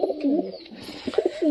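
A giribaz pigeon coos in a soft, warbling series of low, rolling notes, close and steady for just over a second.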